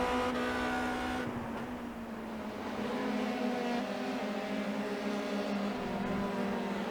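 An old Formula 3 race car circles Brands Hatch in iRacing, its engine holding a steady, buzzing drone that shifts pitch slightly as it comes off and back onto the throttle, with no voices over it.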